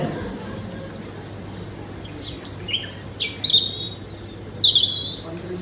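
Birds chirp and whistle with short, high calls that grow louder and more frequent toward the end, over a low steady background hum.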